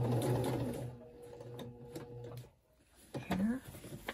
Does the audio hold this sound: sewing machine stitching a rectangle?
yes